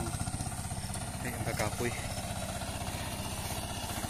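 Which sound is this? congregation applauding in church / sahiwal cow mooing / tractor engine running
tractor engine running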